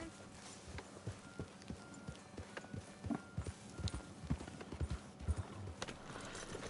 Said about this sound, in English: my horse is just wrecking the place